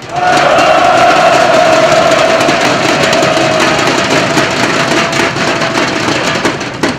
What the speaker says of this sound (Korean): 이 모든 것을 담은 힘찬 함성으로 조합원총회를 시작하도록 하겠습니다